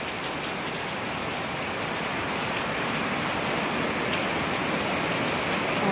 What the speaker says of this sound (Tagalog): Dito ko malalaman kung malakas talaga yung ulan.